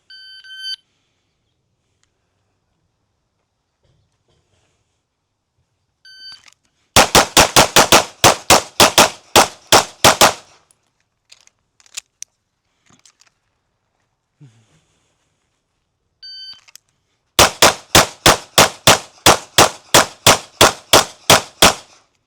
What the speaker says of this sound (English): I'll do a few live fire reps for you.